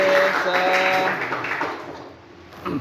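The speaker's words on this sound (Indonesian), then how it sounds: "tepuk tangan untuk semuanya" Schoolchildren in an eighth-grade classroom clap together in a short burst of applause, loudest at the start and tapering off, with voices and faint tonal sounds mixed in.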